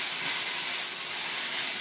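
Soy sauce hitting hot fried rice in a pan, giving a steady, loud, broadband sizzle that holds evenly for under two seconds with no talking.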